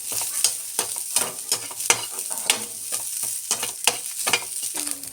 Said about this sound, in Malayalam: അതും കൂടി ഇതിൻ്റെ കൂട്ടത്തിലിട്ട് നമുക്ക് വറുത്തെടുക്കാം.